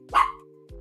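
A single sharp bark from a house dog sounds close to the mic, and a steady electronic hum runs underneath.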